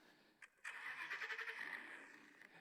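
A small car's engine cranks briefly, then catches and revs to a steady mid-pitched hum that fades, heard alone and at moderate distance.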